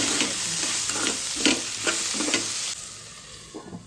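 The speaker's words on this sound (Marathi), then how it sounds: "ही चिरलेली होती कोथिंबीर, त्यातली अर्धी मी फोडणीला घालते" Chopped coriander dropped into a hot tempering for a mixed vegetable bhaji sizzles loudly, with rhythmic stirring scrapes, then the frying fades to a quieter hiss.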